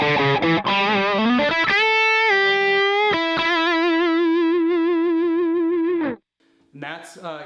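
An electric guitar runs through a Truetone VS-XO premium dual overdrive pedal on its C setting, giving a heavily driven, compressed tone; a few picked notes lead into a long sustained chord that cuts off abruptly before a short final strum.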